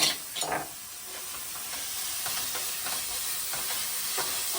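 A single fish frying in a pan for an Andhra-style fish gravy curry: an initial louder hiss and spatter, then a continuous even sizzle with occasional faint pops, close by.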